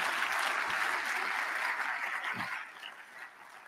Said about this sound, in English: A round of applause for John Pising, please.